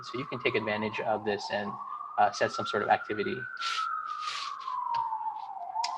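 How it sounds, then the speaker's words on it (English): A police siren wails, rising and falling steadily in the distance outside in a city, while someone talks over it in the foreground. "I'm not sure if you guys can hear the sirens in the background."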